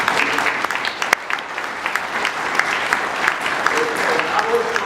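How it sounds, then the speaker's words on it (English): An audience applauds a guest at the close of an interview, a steady dense wash of clapping hands that holds at even strength throughout, with no talk over it. "can I ask you to give Dr. Ballard a round of applause?"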